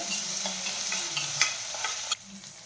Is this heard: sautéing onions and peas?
yes